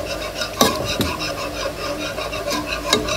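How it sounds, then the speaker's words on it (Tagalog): Condensed milk is stirred into a simmering gelatin dessert mixture in a pot, a spoon scraping and clinking against the metal in several distinct strokes over a continuous low bubbling, close and fairly loud with no talk. "At imimix natin ang condensed."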